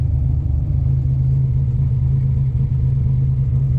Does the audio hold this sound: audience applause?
no